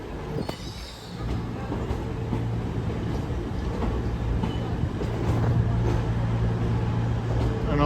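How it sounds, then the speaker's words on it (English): A TransPennine Express train pulls into Newcastle station as a terminating service, its steady rolling rumble and hum growing slightly louder while it arrives along the platform. "Driving in as a terminating Transpan Express service 802212 from Liverpool Lime Street."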